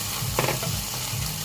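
Chicken stir-frying in olive oil with garlic gives a steady close sizzle with a brief scrape of stirring, no voices.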